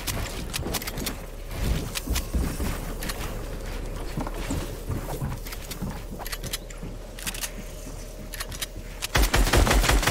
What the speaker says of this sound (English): It's kind of hard when I'm getting sniped from one direction.